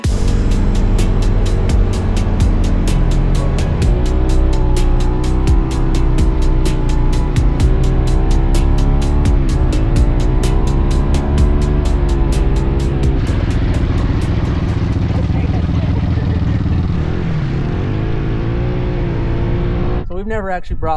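A motorized drift trike on sand dunes revs hard, its engine pitch rising and falling through a long spin, loud and close, then cuts off abruptly near the end; voices talk over it throughout.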